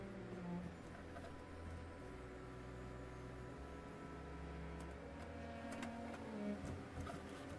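A printer runs quietly with a steady mechanical whir and faint clicking, low in level and constant throughout, with no speech.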